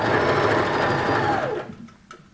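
A sewing machine stitches scrubs trousers in a loud steady whir that runs continuously, then winds down and stops, leaving a brief faint clack.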